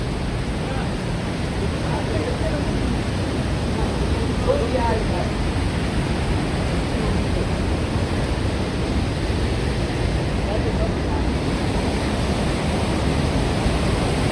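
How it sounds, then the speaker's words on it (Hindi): The Saraswati river rushes near Mana village as a steady, loud, broadband roar of water that continues unbroken throughout. "ये रही सरस्वती नदी"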